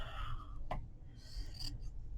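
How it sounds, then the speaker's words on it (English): Scissors snipping down through a piece of material for a planner spread, two or three quick crisp cuts at close range, with soft handling rustle between them and no talking. "I'm thinking I might need to cut this down just a little bit."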